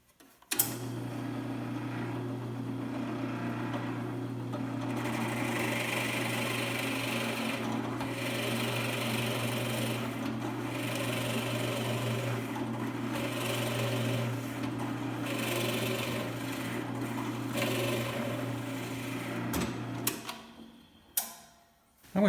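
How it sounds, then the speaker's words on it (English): Power drill boring holes for the front legs of a white oak bench, a steady whirring run held for about fifteen seconds with slight changes in pitch, close and alone, then stopping with a few clicks. "I'm going to drill the holes for the front legs."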